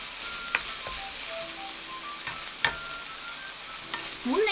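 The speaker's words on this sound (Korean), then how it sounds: "수분이 날아갈 때까지 예쁘게 볶아주시면 돼요" Meat for Chinese-style spicy pork noodles being stir-fried until its moisture cooks off, a steady close sizzle with occasional sharp clicks of a utensil against the pan.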